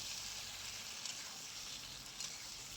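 Potatoes and taro pieces sauté in a pan with a steady, soft, continuous sizzle and faint frying crackle throughout, heard close and alone.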